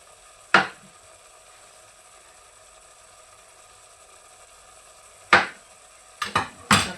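Knife cutting peeled boiled eggs in half on a board, with sharp isolated clacks as the blade meets the board: one early, another after a long pause, then a quick cluster of three knocks at the end, over a quiet background hum.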